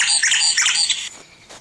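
A nightingale sings from a nearby tree outdoors, a bright rapid run of loud chirps and warbled phrases for about a second, then breaking off into quieter trailing notes.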